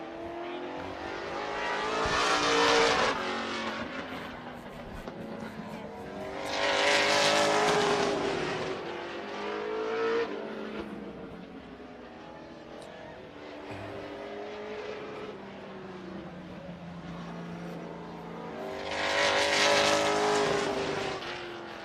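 Wisconsin sport trucks race around Golden Sands Speedway during the Trickle 99 event, engines droning continuously as three loud pass-bys swell and fade, with a rising and falling roar as the pack circles the track.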